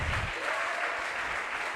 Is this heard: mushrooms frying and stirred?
no